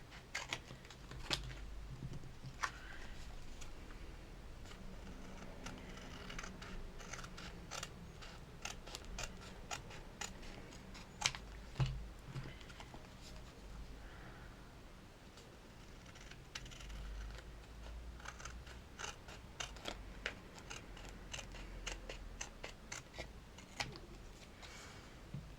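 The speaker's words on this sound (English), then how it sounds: "So let's try and cut a straight line, eh?" Scissors cut out printed images, a long run of close, crisp snipping and clicking strokes with paper rustle over a constant low hum.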